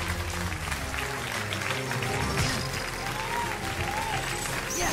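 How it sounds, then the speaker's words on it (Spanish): In Kingdom Hearts Re: Chain of Memories, a game crowd cheers and applauds in a dense, sustained roar with brief tonal game sounds over it. "¡Que me están vitoreando!"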